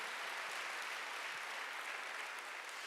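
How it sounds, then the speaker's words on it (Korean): A congregation at a Wednesday church service applauds. The clapping is a dense, even wash that holds steady at a moderate distance for a few seconds, with no voices over it. "박수로 하세요"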